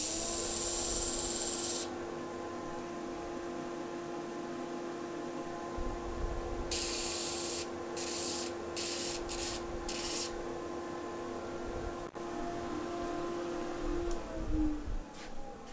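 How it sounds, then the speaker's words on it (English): Continuous abrasive rubbing of sandpaper against a wooden spindle spinning on a lathe at about 1,000 rpm over a steady motor hum, with several short bursts of harsher scratching. "all I'm going to do is just sand the edges, a hand sanding"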